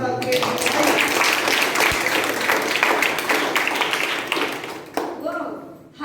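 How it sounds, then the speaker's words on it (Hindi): An audience claps at a government district program in Basti, giving dense, sustained applause that fades toward the end, with voices speaking over it. "ताली तो बजा दीजिए सबके लिए।"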